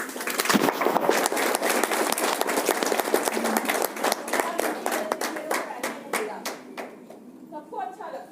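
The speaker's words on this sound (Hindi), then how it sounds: "तो एक जोरदार तालियां" Audience applause from a crowd, a dense run of close claps at steady strength that gradually thins into scattered separate claps near the end.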